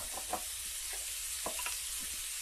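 Spring onions frying in a hot pan, a constant bright sizzle with light stirring taps and scrapes close by.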